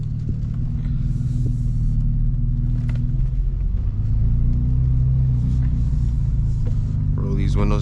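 A BMW M2 with aftermarket intakes cruises at night, its engine laying down a steady low drone and rumble that swells slightly mid-drive. A few higher mechanical rasps rise near the end.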